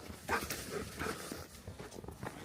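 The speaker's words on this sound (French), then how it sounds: "le chien est là. Oups," A family dog grows excited indoors, giving a few short whimpers and yelps with quick panting, close by and moderately loud, with light household movement around it.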